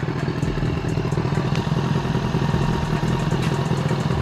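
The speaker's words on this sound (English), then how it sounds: "bike's doing okay idling wise" A Yamaha R6 sport motorcycle engine idling steadily nearby, a low continuous rumble with light mechanical clatter.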